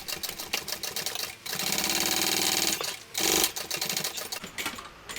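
Close, loud sewing machine stitching a full-allowance seam on a shoulder bag, with bursts of rapid needle chatter and one longer continuous run, broken by brief pauses.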